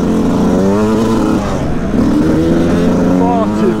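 A motocross bike ridden at Shawbury Stubblefield MX drones loudly and close, its engine note rising and falling continuously with wind buffeting, and a rider's voice faintly over it.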